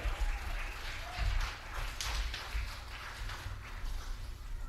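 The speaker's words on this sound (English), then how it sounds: "Ladies and gentlemen, give a nice round of applause to Mr. Clay Eastep." Applause for a senior player at a high school baseball senior night, scattered outdoor clapping from a modest crowd, fairly faint and uneven, with a few sharper claps.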